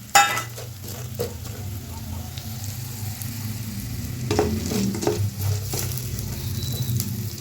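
Ingredients fry in oil in a pan for a chapati side dish. The oil sizzles steadily up close, with stirring scrapes and occasional utensil clinks against the pan.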